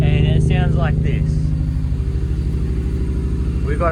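A Ford Barra engine with a stock, uncammed setup idles high near 2,000 rpm, heard through the exhaust as a steady, rough, rhythmic low rumble close by. Someone talks briefly over it.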